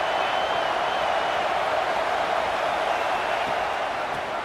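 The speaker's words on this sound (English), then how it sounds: "This crowd ready to make its presence known." A football stadium crowd makes a dense, steady roar of many voices, loud and unbroken, with no single sound standing out.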